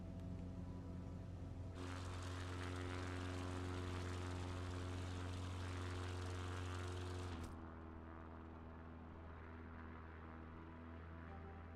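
A propeller airplane engine in Microsoft Flight Simulator 2024 drones steadily and loudly throughout, with a brighter, fuller roar for several seconds before settling back to a lower, smoother hum.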